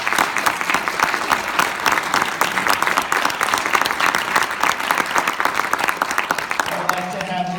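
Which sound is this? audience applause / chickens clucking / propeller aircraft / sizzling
audience applause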